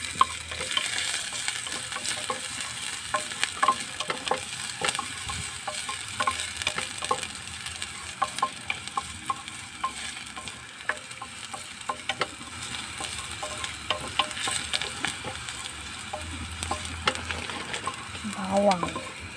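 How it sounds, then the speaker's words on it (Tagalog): Garlic and onion sautéing in a pan for chicken adobong sitaw, a steady close sizzle with rapid clicking and scraping from stirring throughout, no voices over it. "igisa mo lang natin mga ang yung bawang at saka sibuyas lang"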